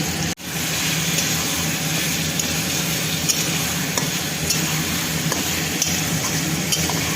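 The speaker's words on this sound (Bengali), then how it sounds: "এবার আমি পেঁয়াজের সাথেই চিকেনটা জাস্ট ফ্রাই করব।" Chicken fries with onions in a pan, giving a loud, continuous close-up sizzle with occasional stirring scrapes and no voices.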